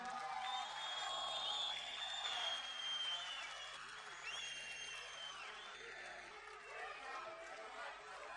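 Large outdoor crowd at a Republican People's Party political rally in İzmir applauding and cheering, a dense steady roar of clapping and voices that stays loud throughout and eases slightly near the end.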